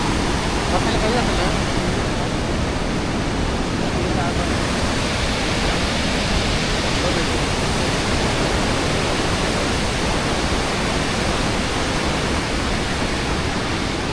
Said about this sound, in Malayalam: ഭയങ്കര റിവർ അടിയിൽ കൂടെ പോണ ഒരു റിവറാണിത്